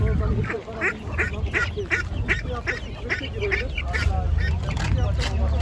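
Ducks quack repeatedly in quick bursts close by at a poultry market in Ankara, with goose honks mixed in over a low background murmur.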